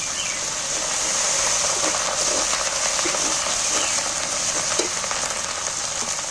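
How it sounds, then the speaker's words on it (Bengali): Garlic paste and then ginger paste frying in hot oil for a chicken curry, a steady close sizzle with faint crackles and occasional stirring scrapes, no talking. "আমি প্রথমে রসুন বাটাটা তুলে দিচ্ছি তেল মধ্যে এবার আদা বাটাটা দিয়ে দিচ্ছি"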